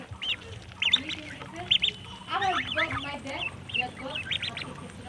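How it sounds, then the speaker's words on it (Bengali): Young domestic ducks in a village give short, bright quacks and squawks in scattered bursts, fairly close and moderately loud, over a low background murmur. "আমার ছোট হাঁসগুলো কিন্তু বড় হচ্ছে"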